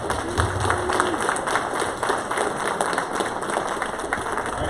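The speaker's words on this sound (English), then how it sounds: "Let's give them a round of applause, everybody." Audience round of applause at a live HWC San Diego event with Scott Sorrell: dense, steady clapping from a crowd at moderate loudness, lasting throughout with a faint voice and some whoops mixed in.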